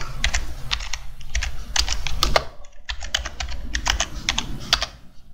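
Fingers type quickly on a computer keyboard, entering a Google search: a close burst of sharp, irregular clicks with a brief pause midway, then more rapid keystrokes, with no voices.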